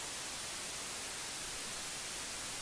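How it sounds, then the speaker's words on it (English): White noise test signal, a constant bright broadband hiss with strong highs, loud and unvarying throughout with no other sounds. "I'll switch to white noise so we can hear the difference"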